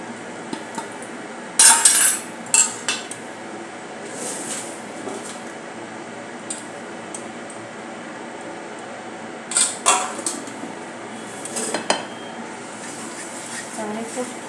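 Ground spices such as Kashmiri red chilli, cumin, coriander, fennel, turmeric and chaat masala being mixed in a bowl with a spoon for Kutchi dabeli filling, giving scattered metallic clinks and scrapes over a steady background hum.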